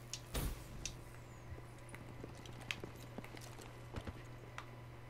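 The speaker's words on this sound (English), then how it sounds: "Literally footsteps everywhere, and I cannot see anyone." Footsteps in Call of Duty Black Ops 3 multiplayer, faint scattered step impacts over a low steady game hum, with a louder thud near the start and no talk.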